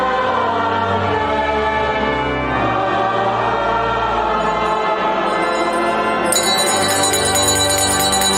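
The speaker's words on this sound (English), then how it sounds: "We had the church bells right there" Church bells ring loudly and continuously, overlapping strokes blending into a rich, sustained peal that keeps going through the whole stretch with no talking.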